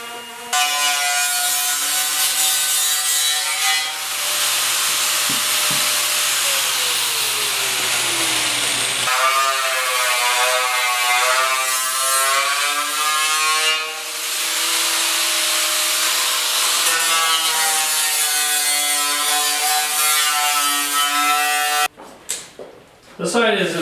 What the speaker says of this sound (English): But I'm going to hit this one with a sander and just see if there's any issues.